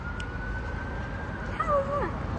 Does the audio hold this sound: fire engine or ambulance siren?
yes